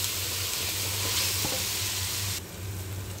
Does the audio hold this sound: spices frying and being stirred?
yes